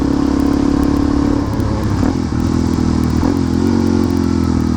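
A dirt bike engine fitted with an FMF Power 4.4 exhaust idles steadily and loudly up close, its low rumbling thrum continuous with slight fluctuations and a faint blip around the middle.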